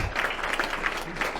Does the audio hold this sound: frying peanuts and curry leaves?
no